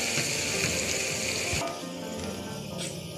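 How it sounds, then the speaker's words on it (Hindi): Ginger-garlic paste fries with browned onions for an aloo gosht curry, giving a continuous bright sizzle that eases slightly partway through, with faint clinks of the pan. "अब मैं इसमें ऐड करूँगी अदरक और लहसुन का पेस्ट है, जो मैंने 1 टीस्पून लिया था, ठीक है। अब इसको अच्छे से हम फ्राई करेंगे।"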